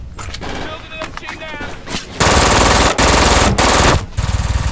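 Rapid machine-gun bursts and gunshots ring out in the shooter game Brink, loud and close, first as scattered shots under a voice, then as long dense volleys.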